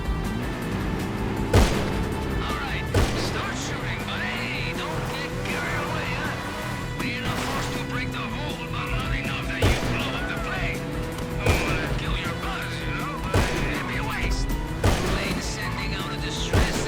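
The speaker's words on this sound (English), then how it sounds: "all you have to do is shoot it with your FMJ revolver and catch the cargo as it falls" An FMJ heavy revolver fires repeatedly at a cargo plane in GTA Online, spaced sharp shots every second or two under continuous engine drone and steady talking.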